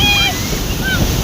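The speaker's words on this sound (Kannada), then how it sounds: "ನೋಡಿ ಬೀಚಲ್ಲಿ ತುಂಬ ಅಲೆ ಇದೆ ಅಂದರೆ ಸಖತ್ ಅಲೆ ಇದೆ" Strong evening ocean waves on a beach give a broad rushing surf with wind buffeting the microphone, and a few brief whistle-like tones sound above it.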